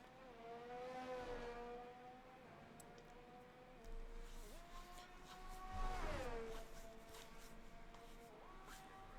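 F1 race car engines in the F1 23 video game at Zandvoort, high-pitched whining tones rising and falling through gear shifts, with a louder car sweeping past around the middle, no talking.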